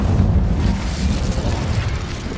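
An Incendio fire spell cast in Hogwarts Legacy gives a loud, dense roaring burst of flame with a low rumble that holds steady for a couple of seconds, heard alone.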